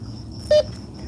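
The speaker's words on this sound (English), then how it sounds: "it just kind of comes back with a beep beep" A Bounty Hunter Tracker IV metal detector gives one short, sharp beep tone over a steady background hum.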